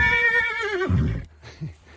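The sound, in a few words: horse neighing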